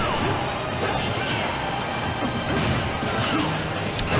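An up smash attack lands in a Super Smash Bros. 4 doubles tournament match at Momocon 2016, a loud burst of hit and crash effects over the steady, dense din of gameplay and an event crowd.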